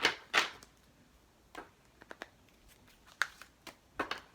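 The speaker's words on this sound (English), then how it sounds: "I'm going to shuffle, but then I'm going to ask you to cut into 3 stacks" Tarot-style cards are shuffled by hand for a reading, giving soft, brisk riffles and papery slaps in scattered bursts, fairly quiet with no talk over them.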